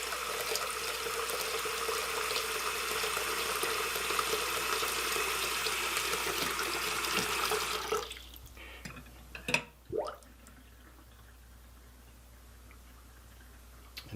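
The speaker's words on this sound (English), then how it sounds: "We're going to run some water in here." Tap water runs steadily into a bathroom sink drain for about eight seconds, then shuts off, leaving a few drips and small clicks against a quiet background.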